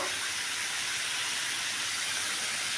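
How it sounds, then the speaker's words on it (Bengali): Steady broadband sizzling hiss of bitter gourd, eggplant and potato frying in a pan, continuous and fairly close, with no talking. "এটা এবার আমি একটু ভালো করে ভাজা করে নিচ্ছি"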